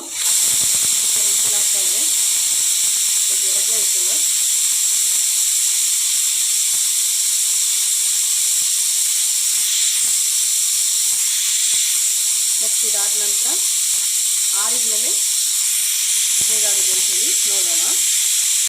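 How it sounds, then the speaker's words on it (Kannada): A kitchen pressure cooker vents steam in a long, steady, loud hiss. Someone talks briefly in short bursts over the hiss. "ಫ್ರೆಂಡ್ಸ್ ಕುಕ್ಕರ್ ವಿಷಲ್ ಆಯಿತು"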